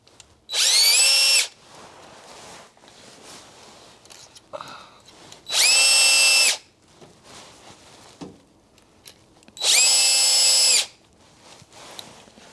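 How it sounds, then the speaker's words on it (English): A power drill drives screws to mount a Hauslane UC-B018 under-cabinet range hood. Three loud, close, whining bursts of about a second each are separated by quieter handling and rustling. "And then we take our drill and our screws, and we put our 4 screws"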